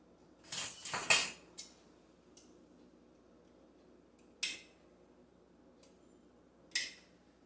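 Steamed cassava transferred into a dish to cool: a cluster of close clinks and scrapes of utensil against dishware, followed by a few isolated sharp taps spaced apart in a quiet room.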